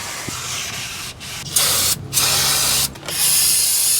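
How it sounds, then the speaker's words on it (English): Brake cleaner sprays in several hissing bursts onto the rear brake shoes and rotor of a GMC Sierra or Chevy Silverado 1500 with a 5.3L engine; the bursts are close and loud and broken by short pauses. "we're going to clean that off with some brake clean"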